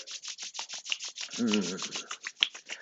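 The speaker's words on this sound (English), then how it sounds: "Let's rub our hands together." Two hands rubbing briskly together during a calming mindfulness practice, a close, steady run of rhythmic swishing strokes with a brief low murmur partway through.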